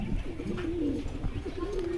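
Pigeons, a female and a male kept as a pair, coo in low, rolling, repeated calls close by, the purring coos running continuously over a soft background rumble.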